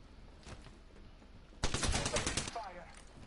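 Rapid automatic gunfire erupts in a dense burst in the battle royale game Apex Legends, preceded by a few scattered quieter shots.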